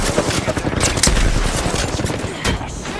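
Video game gunfire: a loud, dense run of rapid automatic shots and bursts, close and continuous with brief pauses, over background game effects and no clear talking.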